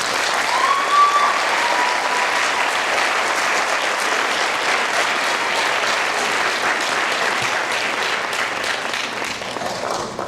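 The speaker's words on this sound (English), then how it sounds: "Let's greet our students with a warm round of applause." Audience at a school winter band concert applauding to welcome the beginning band students, sustained dense clapping from a full room, steady and fairly loud for about ten seconds with no talking.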